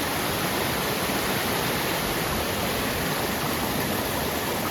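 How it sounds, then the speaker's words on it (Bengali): Steady, dense rush of water pouring past at a waterfall in Jharkhand, a continuous broadband roar close by with no pauses and no voices over it. "এই দিক দিয়ে কতটা জল বয়ে আসছে, ওয়াও!"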